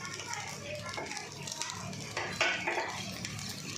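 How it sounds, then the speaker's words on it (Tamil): Egg noodles with coriander leaves being stirred in a pan, a spoon clattering and scraping against metal in irregular bursts over soft sizzling, with faint voices in the background. "கொத்தமல்லி சேர்த்துட்டு ஒரு வாட்டி நல்லா மிக்ஸ் பண்ணிக்கலாம்"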